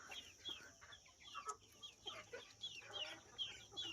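Roosters and hens on a farm clucking and calling in a busy, overlapping chorus, moderately distant and steady throughout, with no talking.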